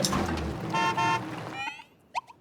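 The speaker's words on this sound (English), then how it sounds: "This whole time I've not been honking, and honking is an option." The van horn in the video game Caravan SandWitch honks twice in short, loud toots over game ambience, followed by faint high chirps.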